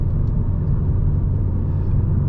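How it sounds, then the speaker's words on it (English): A 2023 Renault Clio E-Tech 145 HP full hybrid drives at night, running on both its electric motor and petrol engine, giving a steady, loud low rumble of road and engine noise from inside the cabin. "it's using the electric motor, but it's also using the petrol"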